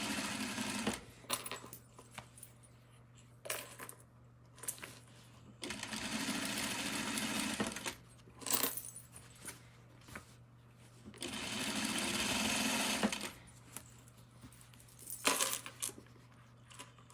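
A sewing machine stitching a skirt runs in several bursts of rapid whirring, separated by pauses filled with small clicks and handling noises, close and steady throughout.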